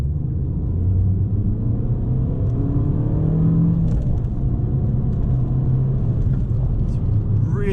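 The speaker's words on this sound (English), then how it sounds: "a little bit of torque there when really revving it out" An Abarth 595 (2016) engine revs while driving, a steady low rumble with rising and falling harmonic tones as it pulls through the gears, close and continuous throughout.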